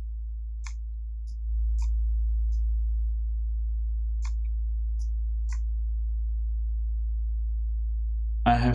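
Steady low sine reference tone at 55 Hz low A from a Bog Audio module in VCV Rack, a pure continuous hum with faint clicks, briefly rising in level before a new sound enters at the end.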